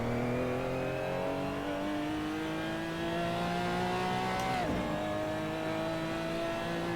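A Porsche Cayman GT4 Clubsport engine drones loudly in third gear in the Assetto Corsa racing game, climbing steadily in revs, then a quick pitch drop at a shift before it pulls on again at full throttle.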